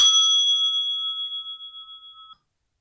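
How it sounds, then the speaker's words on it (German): A school bell gong is struck once, giving a bright metallic ding that rings out with a clear, slowly decaying tone before cutting off into silence. "Der gongt ju Skaulpingel."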